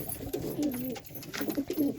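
Pigeon chick cooing from a nest in a coop where birds are being treated for pigeon pox, soft low murmuring coos repeating through the clip, close and steady.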